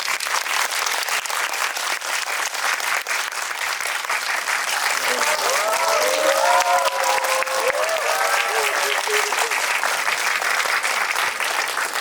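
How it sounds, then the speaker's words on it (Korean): Sustained applause from a large crowd, steady and loud throughout, with a few whistles and cheers rising above the clapping midway. "큰 박수 부탁드립니다"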